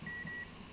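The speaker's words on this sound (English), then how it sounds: "What is that beeping?" A TeamSpeak notification beep, a single thin steady electronic tone lasting under half a second with a tiny break, faint and alone.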